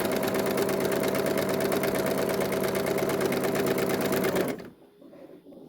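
A sewing machine stitches fabric at steady speed, a fast, even mechanical chatter running close and loud for several seconds before stopping abruptly, leaving faint handling noise.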